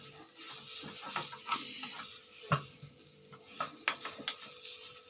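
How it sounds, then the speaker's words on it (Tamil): Ingredients for jaggery kolukattai filling sautéed in a pan, soft clicks and scrapes of a spoon over a faint sizzle, quiet and sparse with a steady hum underneath. "கொஞ்சமாக வதக்கலாம் நல்லா ஒரு வாசமாக இருக்கும்"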